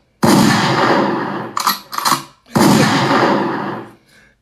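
Loud gunshots in a zombie shooter game, a long booming blast with metallic ringing, then two shorter sharp bangs and another long ringing blast that fades out, with no voices.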